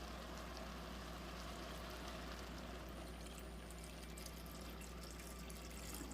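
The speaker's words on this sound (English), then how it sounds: "I'm going to add a little bit more water" Steady, continuous stream of water pouring into a pot of freshly harvested kale, a constant rushing splash with no pauses, fairly close and moderately loud.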